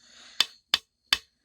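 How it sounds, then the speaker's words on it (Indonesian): Finger flicks on a plate that looks like glass but sounds like plastic: three sharp, dry clicks with no ringing tail, close and isolated. "bentuknya kayak piring kaca, cuman suaranya kayak pas dijentik kayak plastik."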